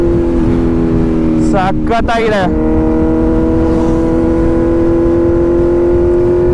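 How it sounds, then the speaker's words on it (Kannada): Kawasaki Z900 fitted with a full-system exhaust and no dB killer idles with a loud, deep, throbbing burble, then gives a few quick sharp revs that rise and fall before settling back to idle; someone speaks briefly. "ಈ ಫುಲ್ ಸಿಸ್ಟಮ್ ಎಕ್ಸಾಸ್ಟ್ ಇದೆಯಲ್ಲ ವಿತೌಟ್ DB ಕಿಲ್ಲರ್, ಈ ಸೌಂಡ್ನ ಎಕ್ಸ್ಪೀರಿಯನ್ಸ್ ಮಾಡೋಕ್ಕೋಸ್ಕರ ನಾನು ಈ ವಿಡಿಯೋ ಮಾಡ್ತಾ ಇರೋದು"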